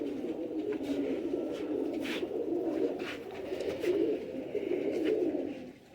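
Sialkoti rooftop pigeons coo steadily and close by, a continuous soft throaty murmuring with faint chirps and rustles scattered through.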